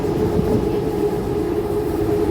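A train rumbles past steadily at Saphan Taksin (Sathorn) station in Bangkok, a loud continuous roar of rail noise with a faint metallic hum, no talking.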